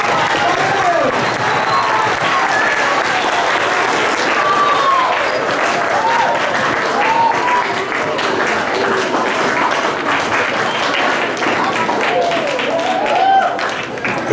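Loud, sustained applause from a middle school ceremony audience, with cheering and voices mixed into the clapping throughout.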